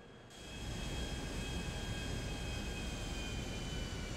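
A plane engine in GTA V online drones steadily after a brief quieter start, a constant loud whine with a high tonal hum and no talk.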